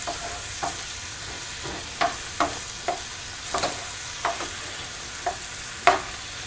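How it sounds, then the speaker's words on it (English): Ground meat browning on a high flame for a tamale pie hot dish. A steady hiss runs under periodic scraping stirs, close and distinct, with no one talking. "I'm just trying to wait until the meat gets just brown enough."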